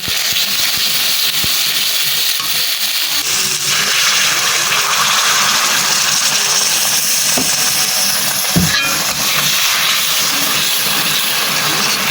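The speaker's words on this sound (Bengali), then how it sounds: "মশলাটা এখন একদম ভাজা ভাজা হয়ে গেছে অল্প পরিমাণে পানি দিয়ে দিব" Spice paste frying hard in a pan for chicken tehari, a loud, steady hiss and sizzle filling the whole stretch, with a brief sharp flare near the end as a little water goes in.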